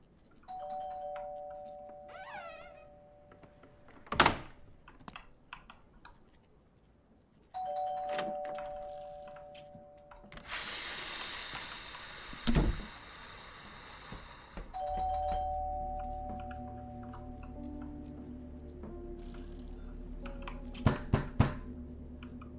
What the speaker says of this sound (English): Who rings a doorbell like that many times?